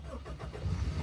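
An old, cheap Honda Civic with battery trouble cranks and catches, its engine turning over in a short, loud burst of low rumble up close.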